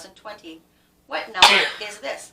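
A single sharp sneeze bursts out during a classroom morning-message session, brief and fairly loud between stretches of an adult talking.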